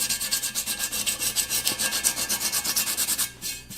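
Curb rash on a wheel rim is sanded back and forth by hand in a fast, even rhythm of about twenty close, raspy strokes that stop near the end.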